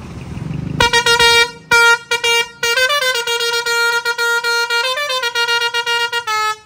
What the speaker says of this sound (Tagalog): Busina na tayo.